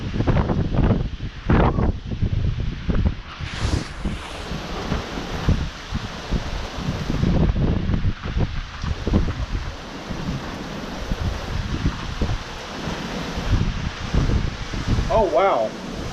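Severe windstorm with strong, hurricane-force gusts roaring and buffeting the microphone continuously, loud and close, with surges of heavier blasts and brief voices breaking in near the end.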